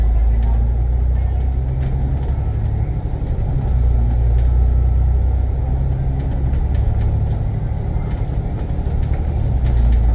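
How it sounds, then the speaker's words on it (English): Inside a Singapore public bus on service 184, a steady, loud low engine rumble and road drone fill the cabin continuously, with faint rattles and no clear talk. "I filmed the return journey on bus service 184 instead"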